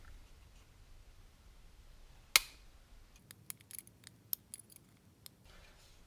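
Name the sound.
trimming plastic on a model car kit post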